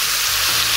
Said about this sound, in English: Pans are hot. Drop our first chicken here.